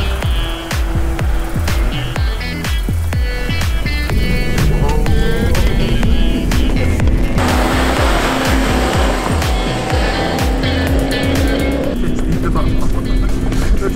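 A Jeep's engine drones and revs loudly up close as it drives off-road sideways onto a sandy beach, with someone talking over the steady motor noise.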